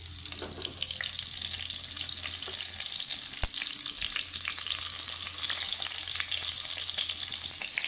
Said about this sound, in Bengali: খোসা যে সাইড ওই সাইডে আমি বেগুনগুলো দিয়ে ভেজে নেব